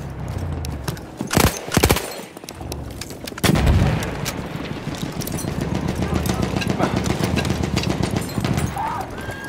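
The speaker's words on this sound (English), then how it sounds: "There's an enemy machine gun!" Battlefield 1 combat: a few sharp gunshots crack out early, then an enemy machine gun hammers in a steady, rapid rhythm at mid distance while soldiers call out.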